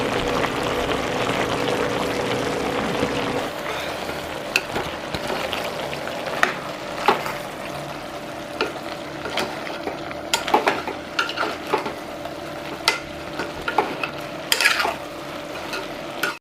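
Country chicken curry with chilli powder and coriander powder masala being stirred in a pan, with a steady sizzle of frying and repeated scraping and clinking of the spoon against the pan, loud and close throughout.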